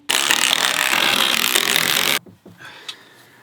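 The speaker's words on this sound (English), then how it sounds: "You like my little wrench?" A small ratchet wrench turns during furniture-style assembly, a loud dense burst of rapid ratcheting clicks lasting about two seconds before cutting off abruptly, followed by a few faint knocks.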